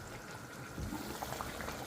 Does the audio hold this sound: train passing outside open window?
no